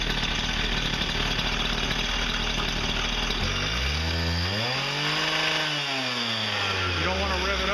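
A brand new small two-stroke engine on its first break-in tank idles with a buzzy, steady drone, then briefly rises and falls in pitch as the throttle is blipped, close by and fairly loud.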